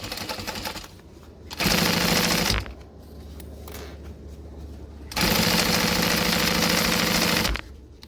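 A sewing machine fitted with a hump jumper stitches across a bulky fabric seam in two loud, steady bursts of rapid mechanical rattling. Between the bursts it drops to a quieter whirring pause, all close up with no voices.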